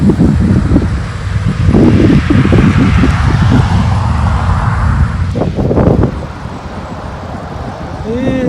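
Cars and traffic passing on a highway near Harrisburg, Illinois: a loud, continuous roar of several vehicles going by close, with heavy wind buffeting the microphone and a quieter stretch near the end.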